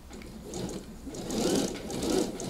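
A sewing machine runs a seam on a coat, a steady whirring stitch close up that swells and eases in short bursts, with no voices over it.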